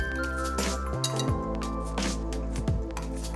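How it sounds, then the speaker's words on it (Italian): Repeated bright clinks of a utensil stirring kefir and olive oil in a drinking glass, a close, ringing, irregular tapping against the glass over a steady low hum. "Mescolo bene"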